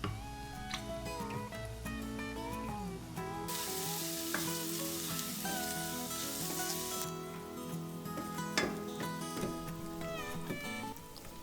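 Diced onion hits hot oil with popping mustard seeds while cooking chickpea masala, giving a loud burst of sizzling and crackling over steady background music.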